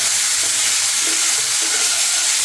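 Coriander and turmeric powder stir-fried with a little water in a pan, giving a loud, close, steady sizzle with soft stirring scrapes throughout.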